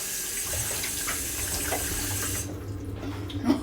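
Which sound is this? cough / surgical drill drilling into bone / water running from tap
water running from tap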